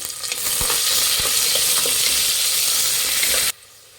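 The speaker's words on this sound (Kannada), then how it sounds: "ಉದ್ದುದ್ದು ಕಟ್ ಮಾಡಿರೋಂಥ 2 ಈರುಳ್ಳಿ ಫ್ರೈ ಮಾಡಿ." Two lengthwise-sliced onions fry in a pan for drumstick biryani with kasuri methi, giving a loud, steady close sizzle with faint stirring clicks that cuts off abruptly near the end.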